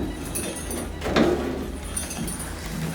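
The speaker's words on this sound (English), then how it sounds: "I wonder if I can shut this door." A heavy old submarine-style metal door shifts inside an underground tunnel in Estonia, giving one brief scraping clunk that rises out of a steady hollow room hum.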